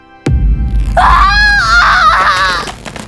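A woman screams while being tortured: a long, loud, wavering cry that rises and bends in pitch and lasts about two seconds, following a sharp thud, with no talk over it.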